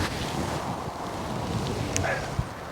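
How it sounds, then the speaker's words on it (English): Strong wind buffets the microphone on a golf course, a steady broadband roar with gusty rumble sustained throughout, loud and unbroken, with a brief faint knock near the end. "Oh, that's a strong wind off the left."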